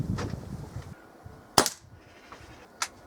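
A Kral NP02 air rifle fires a pellet with a single sharp crack, followed about a second later by a fainter pellet impact, against quiet outdoor background.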